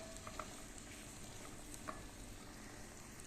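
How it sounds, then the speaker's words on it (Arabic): Onions caramelizing in oil in a pan, giving a soft, steady sizzle with faint crackles and small pops, heard close but quietly. "البصل بتاعي يتكرمل يا دوب"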